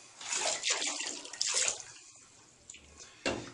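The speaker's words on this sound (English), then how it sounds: "It's just water." Water running and splashing in a bathtub, loud close gushes that rise and fall, then a brief final splash.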